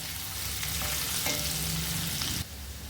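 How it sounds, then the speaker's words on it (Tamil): A quarter of a capsicum is sautéed in a pan for paneer bhurji, a close, steady oily sizzle punctuated by a couple of spoon scrapes and clinks, the hiss dropping noticeably near the end. "அடுத்து இதில் ஒரு 1/4 கேப்சிகம் சேர்த்துக்கிறேங்க. இதை நல்லா வதக்கிக்கலாம்"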